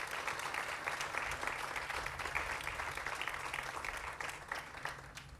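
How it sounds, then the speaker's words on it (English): A crowd at an elementary school groundbreaking ceremony claps steadily for elected officials, a dense, even wash of applause that holds at moderate loudness for the whole stretch without fading. "So could we give our elected officials another big round of applause?"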